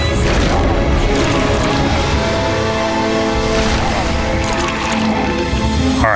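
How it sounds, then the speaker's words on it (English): A magic missile destroying a pedestal in the fantasy role-playing game Neverwinter Nights: a dense, loud crashing burst of shattering debris and magical roar with layered ringing tones that stays sustained throughout, set against game sound effects. "Magic missile for the"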